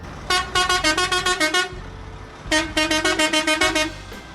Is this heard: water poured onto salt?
no